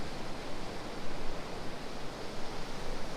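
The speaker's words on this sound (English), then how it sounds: "that's tide noise, that one" Sea waves wash continuously on an east coast beach at Mablethorpe, a soft, even surf hiss at moderate distance with gentle swells in level and no voices.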